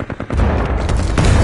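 A grenade explosion in Titanfall 2, a loud, close booming blast landing amid rapid gunfire and chaotic combat noise.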